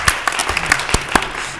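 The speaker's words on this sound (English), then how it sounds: "Let's give her a big round of applause." Close, sharp claps of applause at a city council meeting in Mobile, Alabama, a handful of distinct loud hand claps in quick irregular succession over a murmuring room.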